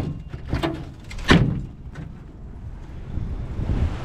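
An old barn door on a farm holding a 1948 International KB-8 truck is pulled shut, giving one loud, close thud with a few softer knocks around it over wind noise.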